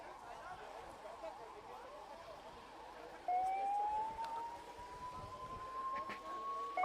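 An ambulance siren wails from a distance at a health department ambulance flag-off event in Punjab, faint at first, then a clear tone slowly climbs and grows louder over background hum.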